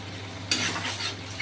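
Prawns go into a pan of curry with chana and pointed gourd and hit the oil with a sudden loud sizzle. A brief stirring scrape follows, up close with no talk.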